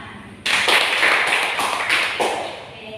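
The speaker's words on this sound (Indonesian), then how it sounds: "Kita beri tepuk tangan." Classmates in a grade-six classroom break into a short round of applause that starts abruptly, holds dense and close for about two and a half seconds, then thins out.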